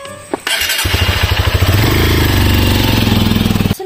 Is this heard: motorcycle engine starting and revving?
yes